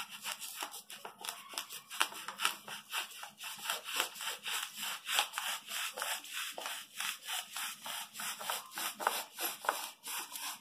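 Styrofoam being cut to shape for a cement vase fountain: steady, rhythmic back-and-forth sawing strokes heard up close, with no speech over them.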